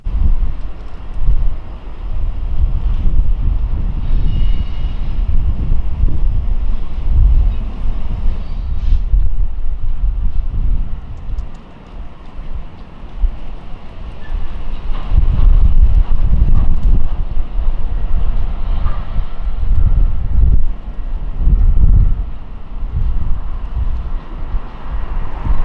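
A freight locomotive rolls through Gibson Yard in Chicago, a steady low rumble with rising and falling surges and gusty outdoor noise, continuous and fairly loud throughout.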